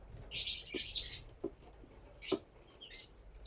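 Baby parrot chicks chirping in a nest, a few faint, high, scratchy squeaks in short bursts over a quiet background.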